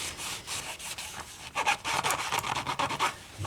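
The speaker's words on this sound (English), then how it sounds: "where it's a little thicker, and you have to rub a little longer" Rag rubbing lacquer thinner over dried glue on a polypropylene cone from a Paradigm 9SE speaker, a close, quiet series of quick scrubbing strokes in an uneven rhythm, no talking.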